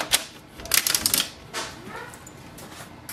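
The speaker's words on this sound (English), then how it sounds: "There is a cassette tray here. Just take, adjust the size." Plastic clicks and sliding rattles come up close as the paper cassette tray of an Epson XP-970 printer is pulled and its guides are adjusted. The faint, short bursts are spread over a few seconds.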